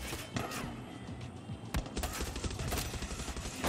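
Rapid, sustained gunfire from the player's gun in Far Cry 6 rattles continuously throughout, with a few sharper cracks standing out over a dense, steady din.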